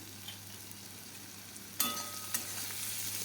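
Prawns and ginger garlic paste dropped into hot oil in a pan for a Bengali potol chingri curry, a sudden loud burst of sizzling that then settles into a steady, close frying hiss.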